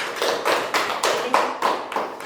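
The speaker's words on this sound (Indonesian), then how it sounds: "Berikan tepuk tangan untuk kelompok terakhir." A classroom of primary school children claps for the last group, a rhythmic run of about eight to ten evenly spaced sharp claps at moderate loudness, with no talking.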